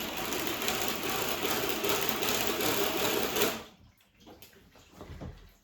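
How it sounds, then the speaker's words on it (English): Dog shampoo foam whisked rapidly in a container during a cockerpoo grooming session, a loud steady mechanical whir that stops abruptly, followed by quieter handling sounds. "And then whisk it."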